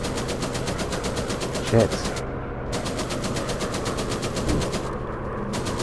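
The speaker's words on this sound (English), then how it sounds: "I think the bomber is shooting at him." Rapid machine gun fire from a bomber in the World War I flight game War Planes WWI, a dense, continuous rattle with brief gaps, while a player mutters over it.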